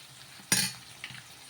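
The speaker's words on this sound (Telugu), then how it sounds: "కరివేపాకు వేసుకొని ఒకసారి బాగా కలిపేసుకుందాం" Curry leaves and onions being stirred in a hot pan of oil, a single sharp sizzling scrape of the spoon followed by a softer second stir and a low, quiet fry between them.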